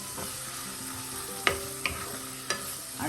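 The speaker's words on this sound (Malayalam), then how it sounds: "അതും കൂടെ ഒന്ന് നന്നായി മിക്സ് ചെയ്ത്" Turmeric powder being mixed into oyster mushroom thoran in a pan: quiet sizzling under a few distinct spoon scrapes and taps against the pan, spaced about half a second apart.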